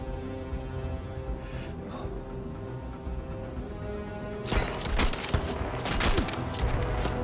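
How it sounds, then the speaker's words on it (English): Enemy gunfire in the video game Starfield: a quiet stretch with a faint hum gives way to a burst of loud, sharp shots and impacts with crashing echoes in the second half. "Should be one over there somewhere shooting at me."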